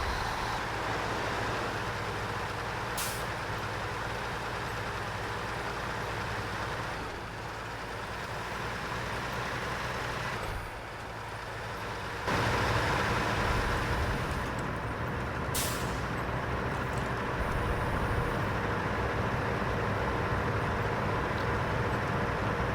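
A Ford CLT9000 truck engine drives through rough off-road terrain in SnowRunner, a steady loud diesel drone with a couple of brief hissing bursts and a shift in engine load partway through.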